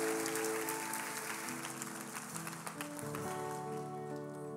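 Congregation applauding for Pastor Watkins at a church service, a loud burst of clapping that fades over a few seconds as sustained music tones rise beneath it.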